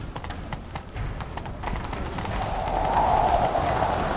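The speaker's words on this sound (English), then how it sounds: "Run, Roach." Geralt's horse Roach galloping in The Witcher 3, a steady rhythm of hoofbeats under a swelling ambient score that grows louder toward the end.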